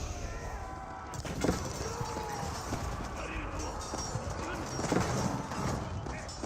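Cavalry horsemen in an Age of Empires 4 battle, hooves clattering amid busy combat noise, with a commentator talking over it.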